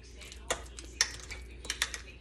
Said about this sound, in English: as soon as I get my bananas mashed up here